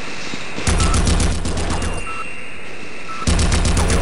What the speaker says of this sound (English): This time I got a turret shooting at me in this part.